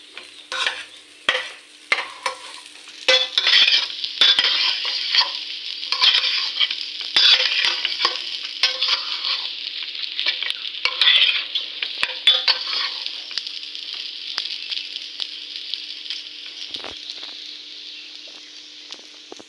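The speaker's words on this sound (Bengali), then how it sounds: "পেঁয়াজ দু তিন মিনিট ভাজি ভাজি করে একটু নাড়াচাড়া দিয়ে" Onions frying in a pan for a Bengali basanti pulao, a steady close sizzle with repeated scraping stirs and spatula knocks, loudest early and easing toward the end, no talking.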